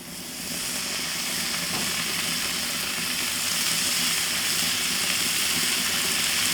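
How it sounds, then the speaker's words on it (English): Two strips of bacon fry in a pan, giving a steady, dense, close sizzling hiss that swells in and holds even throughout, with no talking. "We're gonna go ahead now and start cooking that bacon."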